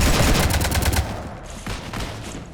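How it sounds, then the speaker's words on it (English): Rapid automatic gunfire shooting at a ship in the Mass Effect 3 video game, a dense burst of loud shots for about a second, then quieter scattered fire. "You want to stop shooting up my ship?"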